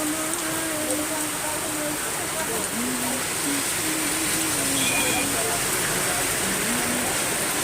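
Heavy rain pours steadily in Bhubaneswar, a dense, continuous hiss of downpour drumming on surfaces close by, with faint voices and passing traffic murmuring beneath it throughout.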